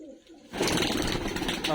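Pigeons kept by a breeder coo in a loud, close, continuous throaty murmur that swells in after a brief quiet moment, with a voice talking over the birds.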